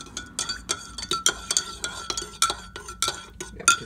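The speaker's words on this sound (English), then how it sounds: "you might want to stir it very slow." A big spoon stirs coffee with creamer slowly, making rhythmic clinks and scrapes against the cup, roughly a dozen light taps in an even pace, close and clear with no talking.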